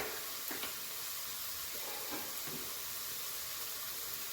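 Garlic, small shallots and ginger sizzle in oil for Kerala-style dry beef, a steady faint hiss with a few soft crackles and stirring sounds, no voices.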